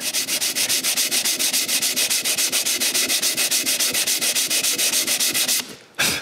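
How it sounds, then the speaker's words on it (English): Steady back-and-forth sanding of a wood plug filling a hole, fast regular rasping strokes close up, continuing for several seconds before a brief pause at the end. "After sanding this a bit, it's not that bad."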